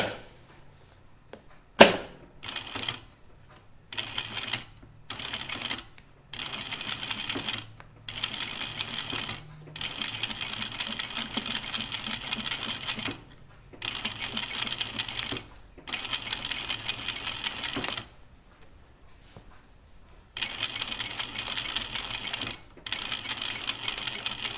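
Home sewing machine stitching seams on a Myrna dress, running in repeated bursts of rapid mechanical chatter separated by short pauses, fairly close and steady.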